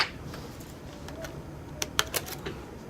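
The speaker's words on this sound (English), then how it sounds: "Keyboard's coming out now." A Sony Vaio laptop keyboard is pried out of its casing, giving a few sharp, light plastic clicks and snaps near the end over faint background hiss.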